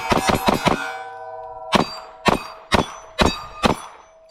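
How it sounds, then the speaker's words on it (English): Metallic clanks of a SIG P365 pistol during a tactical reload, a quick cluster of sharp clicks followed by five evenly spaced, ringing clacks, close and loud with no talking. "Tactical reload."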